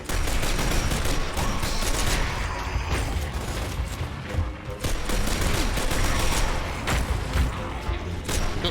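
Rapid pistol shots in a video game crack out in dense, repeated bursts, loud and close, keeping up almost continuously over a busy game soundscape, with a brief lull midway.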